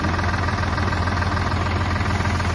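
A tractor engine idles steadily during a loading job, a continuous low rumble with a constant hum and no change in pace, close and fairly loud, alone without talk.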